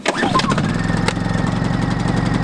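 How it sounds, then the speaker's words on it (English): A cold Honda 2200i inverter generator with the choke on fires up after a brief cranking burst, then settles into a steady, close, even engine drone. "Get your choke on because we're cold. Turn the vent cap on. It should fire right up."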